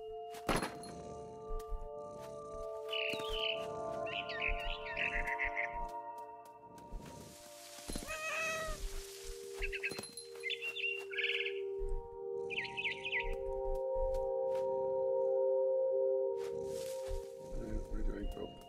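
Small bird chirps in What Remains of Edith Finch: scattered high tweets and calls come in short clusters, fairly near, between thuds and rustling, with someone talking quietly at times.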